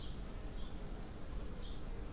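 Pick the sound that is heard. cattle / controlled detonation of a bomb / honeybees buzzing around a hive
honeybees buzzing around a hive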